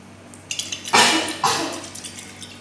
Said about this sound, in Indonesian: Kita buka keran pelan-pelan.